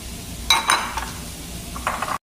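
Onion and garlic dropped into a pan over carrots for a chicken filling, with a couple of sharp clattering bursts and a soft sizzle and stirring that continue until an abrupt cutoff.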